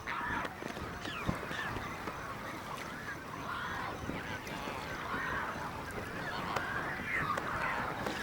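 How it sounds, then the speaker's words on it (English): A large flock of flamingos gathered at a shallow lake in a Botswana pan, calling continuously with a dense, honking, goose-like chorus at steady loudness, many birds overlapping with no gaps. "The southern part of the pan is a mecca for all of southern Africa's flamingos."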